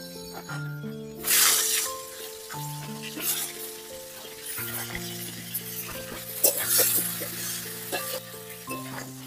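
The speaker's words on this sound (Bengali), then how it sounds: "ওই তেলের মধ্যে ফুলকপি আর আলুগুলোকে এক এক করে ভেজে নেব" Cauliflower and potatoes fry in hot oil for an aloo fulkopi tangra fish curry, giving a continuous crackling sizzle with occasional sharper bursts beneath steady background music.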